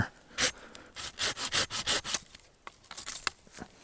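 Close-up hand sawing through a thick, woody tree collard stalk, a run of rhythmic rasping strokes that slows, then a few lighter scrapes toward the end.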